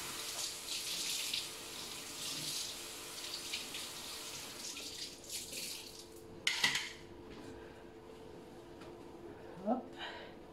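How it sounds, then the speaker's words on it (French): Running water rinsing a pottery wheel, a faint, steady trickle and splash with a few louder clanks and knocks against the wheel toward the end; no one speaks. "un rinçage, ça laisse pas trop de traces"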